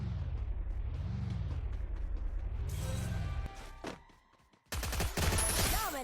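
Rapid gunfire bursts from a Free Fire battle royale match, loud and crackling, following a stretch of steady droning game sound, then dropping briefly before another dense volley.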